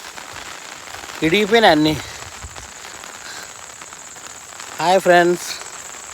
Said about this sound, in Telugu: చూడండి వర్షం ఫుల్గా వస్తుంది.